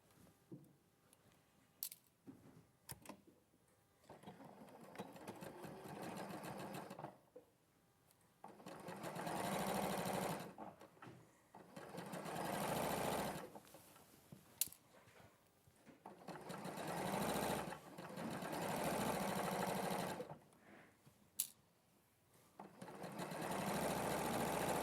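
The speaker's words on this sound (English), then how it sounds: "I'm just going to quickly sew that" Sewing machine stitching fabric in several bursts of steady whirring, each lasting a few seconds, with quieter handling sounds and small clicks between them.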